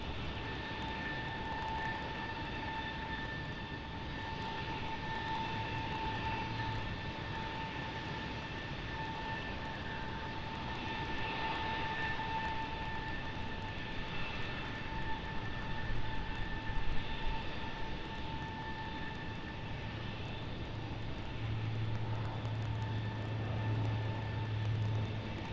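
Bombardier Dash 8 turboprop departing runway 01 right at Brisbane Airport, a steady distant engine drone with a tonal whine, holding at moderate level throughout without speech.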